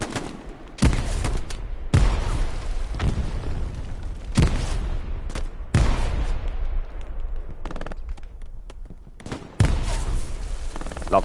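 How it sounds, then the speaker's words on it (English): Battlefield explosions and gunfire in Hell Let Loose, including grenade blasts: several loud, booming bursts arrive every couple of seconds over a continuous rumble of distant firing. "Lovely nade from John R."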